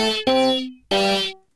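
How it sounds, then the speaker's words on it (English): Two distorted synth guitar notes from the Yoshimi synthesizer run through a Rat distortion pedal, each a bright, buzzy sustained tone that rings out and fades, separated by a short gap, heard alone. "So I put those together and added a rat pedal effect to them, and they ended up sounding like this."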